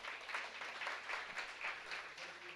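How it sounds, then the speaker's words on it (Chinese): Brief burst of audience applause at a church gathering, even clapping from many hands heard at a distance and fairly faint. "给思雨一个最大的掌声。"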